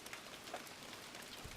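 Rain falls outside a cabin porch, a steady soft hiss of drops pattering on wet wood and surfaces, even and fairly quiet, with no voices.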